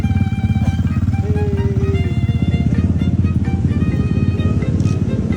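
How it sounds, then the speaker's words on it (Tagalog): A Honda Giorno 125 scooter with a loud open exhaust pipe runs close by, its engine throbbing in a steady, rapid rumble that stays loud throughout. "may dumating na namang isang Honda Giorno 125"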